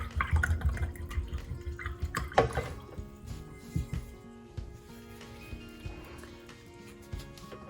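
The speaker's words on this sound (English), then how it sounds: "I'm gonna go ahead and wash that brush off again" A paintbrush swished and rinsed in a container of water, soft close sloshing and dripping that fades into quieter trickles and occasional drips.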